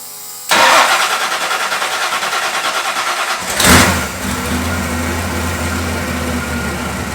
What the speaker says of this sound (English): We then did a baseline pull to 5400 RPM just to ensure everything is good.